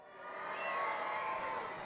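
A crowd cheering trackside at Cadwell Park during a British Superbike race meeting, a broad sustained roar that swells and holds steady for a couple of seconds.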